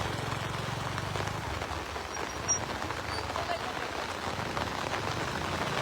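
Steady rain hisses over the rising Ghaggar river at Chandpura, a dense even wash of falling water with a low rumble beneath.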